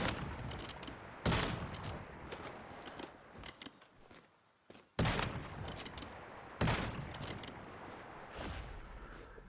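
Gunfire in the Once Human video game as bears are shot, with several rapid bursts of automatic fire separated by short pauses, loud and close with echoing tails.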